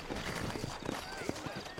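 Sturdy horses clip-clop in a steady rhythm of close hoofbeats, with a brief whinny, beneath a voice talking.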